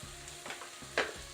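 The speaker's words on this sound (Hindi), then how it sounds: "अब इसमें हम ब्रोकली, चॉप्ड मशरूम और चॉप्ड बेल पेपर्स डालेंगे।" Broccoli, chopped mushrooms and chopped bell peppers stir-fried in a pan, giving a soft steady sizzle with a few scraping stirs, one louder clatter near the end, close and without talk.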